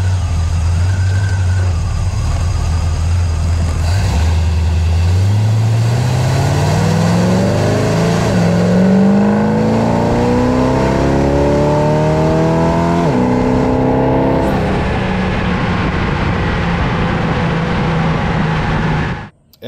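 A car fitted with a cowl induction hood, the rear of the cowl cut open, drives off from a steady engine drone, accelerating through rising revs and gear changes, loud and close from inside.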